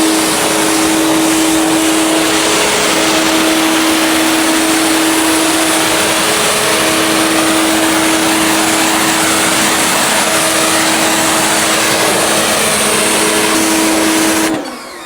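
A Ryobi 2030psi compact high pressure washer runs steadily and loud for the whole stretch, its motor giving a constant hum with a hissing water spray over it, then cuts off abruptly at the very end.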